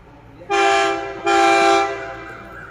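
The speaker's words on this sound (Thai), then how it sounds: "แม่เสียงวีดนี้สนั่นเมืองนะครับ" A Thai passenger train horn sounds two loud, sustained blasts in succession, close and blaring, then fades to a low rumble, at a rural station in Ratchaburi.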